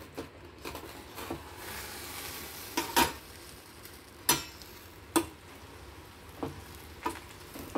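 Spinach and moong dal being stirred in a pot, with scattered sharp scrapes and clinks of a spoon against the metal over a low simmering sizzle, close and fairly quiet.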